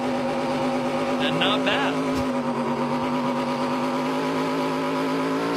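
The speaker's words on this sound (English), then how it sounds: "Well, they're not worried about that rev limiter that he's hitting." An ARCA race car doing a burnout at Pocono Raceway, its engine held hard against the rev limiter in a loud, sustained buzzing drone, while a commentator talks over it.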